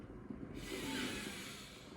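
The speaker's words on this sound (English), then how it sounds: "Breathing all the way in." A deep breath drawn in slowly during a core yoga session, a soft, close, airy inhale building gently and holding, quiet and alone.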